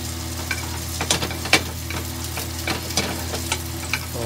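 Salmon skin sizzles and crackles steadily in a hot pan, with occasional sharp pops and spatters over a constant frying hiss.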